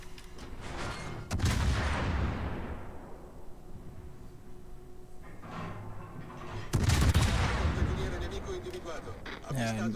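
Rear naval guns of the Napoli cruiser firing in World of Warships: two loud, booming blasts a few seconds apart, each trailing off in a long rumbling decay, with talking over the quieter stretches between shots.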